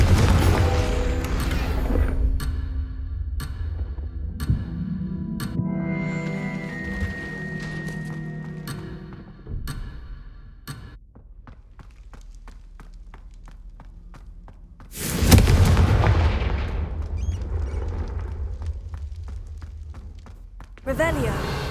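Confringo blasting-spell explosion in the video game Hogwarts Legacy: a loud, sudden burst around the middle of the clip, set among game sound effects, thumps and footsteps, with talk heard in the scene.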